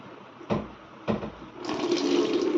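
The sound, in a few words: rainwater flooding into the room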